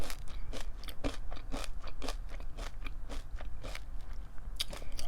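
Pumpkin cereal is crunched and chewed close to the microphone in a steady run of crisp bites and loud crackles, with no talking.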